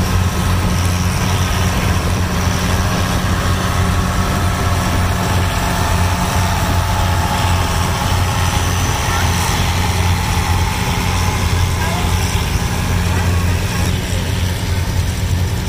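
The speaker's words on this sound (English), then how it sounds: "Here comes the Devil's Tractor 666." Devil's Tractor 666 engine runs at a vintage tractor show, a steady loud low rumble throughout with no pauses.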